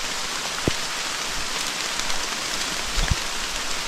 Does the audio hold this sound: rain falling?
yes